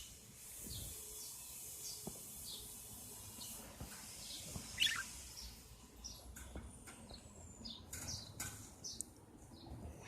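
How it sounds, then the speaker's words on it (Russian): Birds chirp and sing outdoors in nature, scattered short calls near and far over a quiet, faint background. "Здесь тоже птички поют, если вы слышите."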